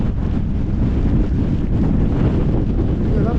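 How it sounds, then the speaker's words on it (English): Strong wind blows across the exposed top of Blencathra fell in the Lake District, buffeting the microphone with a constant, heavy, rumbling roar and gusty swells. "The weather's coming in now, blowing like hell."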